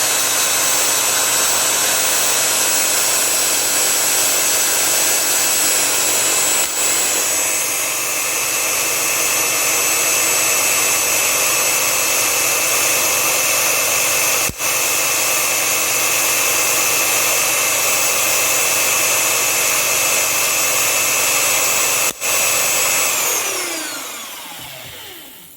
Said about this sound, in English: You can see the machine's getting started.